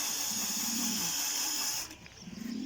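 A power drill whirring in bursts to call pigeons outdoors: a steady high-pitched motor whine that cuts off near the end, followed by a quieter, pulsing rattle.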